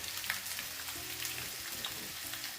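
Three large onions, sliced lengthwise, frying in 75 ml of oil give a quiet, steady sizzle with a faint low hum underneath, brief and without speech.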